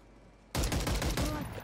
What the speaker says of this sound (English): I shot him with an AR.